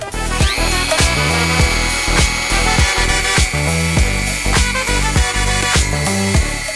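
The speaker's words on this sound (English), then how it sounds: "Now I'm gonna go in with the Dremel to finish the job." Loud high-pitched whine of a Dremel rotary tool cutting Jordan 1 and Jordan 2 sneaker uppers, running steadily with repeated bursts and dips in pitch as it bites into the material, no talk.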